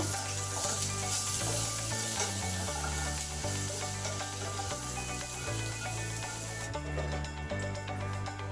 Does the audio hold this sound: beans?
yes